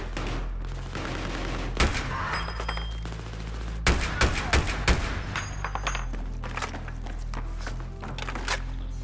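Battlefield 3 single-player gameplay with an M82 Barrett .50 caliber sniper rifle: a few loud, sharp shots ring out over a steady low rumble of background fire and ambience, with no talk.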